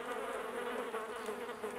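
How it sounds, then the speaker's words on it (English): A steady fly buzzing drones continuously, close and fairly loud, the sound that follows killing a player in the video game DayZ Mod, with no speech over it. "that fly buzzing noise is what happens when you kill a player"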